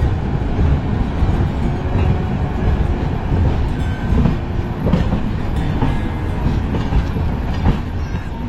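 The Diva–Sawantwadi train on the Konkan Railway rumbles past close by at a crossing, loud and continuous with a steady rolling clatter of wheels on rails.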